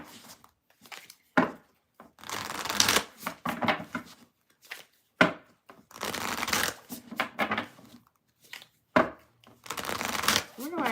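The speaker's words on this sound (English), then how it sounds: "I'm going to shuffle and we will move on to Cancer." Tarot cards shuffled by hand in repeated bursts of riffling and sliding, with brief pauses between passes, close and fairly soft.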